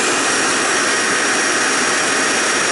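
Dyson Ball Animal 2 and Miele U1 Cat & Dog upright vacuum cleaners running together, a loud, steady, broadband motor roar that holds at a constant level the whole time with no talking.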